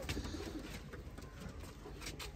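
Sialkoti breeder pigeons coo steadily inside a coop, a close, continuous murmur of soft throaty calls with no pauses.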